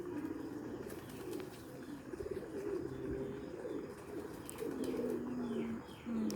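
Pigeons at a home loft coo in repeated low, rolling phrases, close and clear, with light fluttering and chirps around them.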